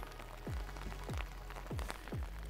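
Rain falling while lake trout fishing on Lake Champlain: a steady close patter on a surface, broken by several evenly spaced low, swooping thumps.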